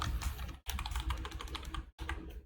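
Close, rapid tapping on a computer keyboard while code is written, bursts of keystrokes broken by two short pauses.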